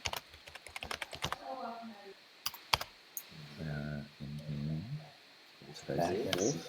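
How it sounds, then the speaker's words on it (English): Rapid bursts of computer keyboard typing clatter up close, broken by short stretches of people talking. "Typing."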